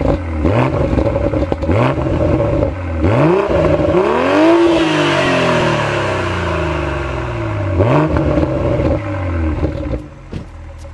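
A BMW X3 M40i engine in Sport Plus mode revs repeatedly, rising and falling in loud, throaty sweeps, with a deep rumble and crackle between bursts, close by.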